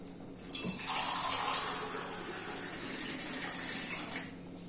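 Water from a glass pours steadily into a cooking pot while vegetable pulao is being made, giving a close, continuous splashing gush that lasts a few seconds before it tapers off.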